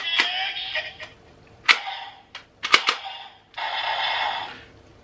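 Ryusoulger Mosa Changer toy blaster firing off a series of sharp electronic shots, with a quick burst of single pops followed by a longer sustained buzzing blast, close and clear with no talking.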